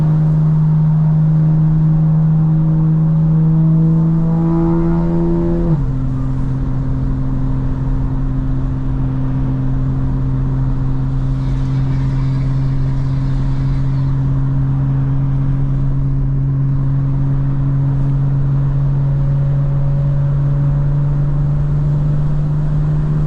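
A 900 hp 2025 BMW M4 Competition xDrive drones loud and close on a wet road in the rain, its engine note holding steady, then dropping once in pitch and carrying on evenly with no talking.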